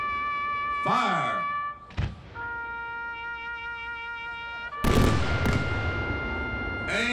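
Fireworks shells launch at an outdoor pyrotechnic competition event in a field, with two sharp, loud thumping bursts a few seconds apart over a steady tonal hum, while people call out nearby.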